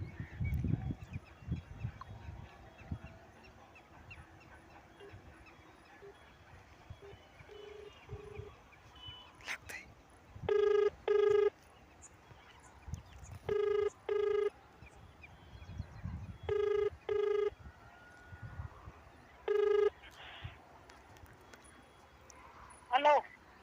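A telephone call rings through in repeated double bursts of buzzing ring tone, four or five pairs spaced evenly, over faint background noise and murmurs.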